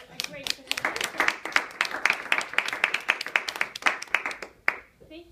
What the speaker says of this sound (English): I think we should start to do an applaud for a great presentation.